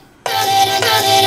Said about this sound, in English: I'm gonna drag the dry wet until the original vocal chop and the harmonics are balanced.